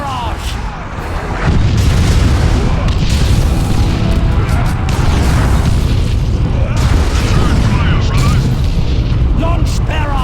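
Loud, continuous artillery barrage in the Dawn of War II: Chaos Rising strategy game, with dense overlapping booms and blasts that swell after the first second and keep rumbling without a break, voices barking orders over the din.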